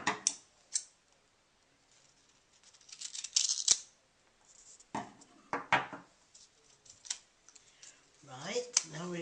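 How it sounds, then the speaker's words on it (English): Scissors snip a length of sticky tape while paper is prepared for watercolour stretching, giving scattered sharp cuts and rustles with quiet gaps between them. "now we're going to go to cut another length of sticky tape"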